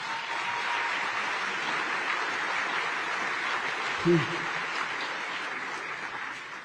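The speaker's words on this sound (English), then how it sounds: "let's give the ILWU a round of applause" A port event audience applauds ILWU dock workers, a steady, moderately distant wash of many hands clapping throughout, with a brief louder bump partway through.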